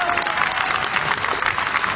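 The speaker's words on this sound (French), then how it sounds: "Merci de l'applaudir une nouvelle fois." A crowd at a Lyon two-wheel motor show applauds rider Johann Zarco, continuous dense clapping with a little crowd noise, fairly loud and sustained throughout.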